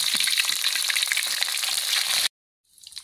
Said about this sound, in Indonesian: Setelah itu pindangnya kita goreng sampai kecoklatan ya.